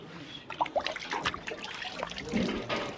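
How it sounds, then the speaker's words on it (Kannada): Hands being washed in water at a temple, with light splashing and trickling close by in short uneven bursts over quiet background. "ಅಲ್ಲಿ ನೀರಲ್ಲಿ ಕೈ ತೊಳ್ಕೊಳ್ಳಿ"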